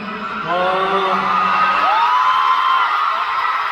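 A fanmeet audience in Cebu screams and cheers loudly, with high-pitched shrieks and whoops soaring over a sustained roar of the crowd, while a voice speaks briefly at the start.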